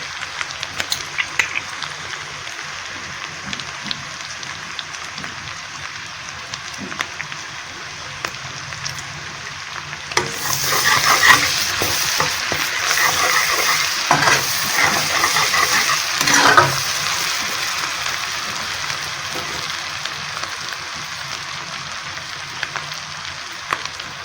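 Ginger garlic paste hits a hot pan and sizzles loudly, with scraping stirs over the frying; the sizzle flares up midway and settles back to a quieter crackle.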